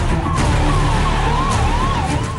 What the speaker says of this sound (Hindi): आप देख सकते हैं गाड़ियां सायरन बजाते हुए धड़ाधड़ इलाके में एंट्री मार रही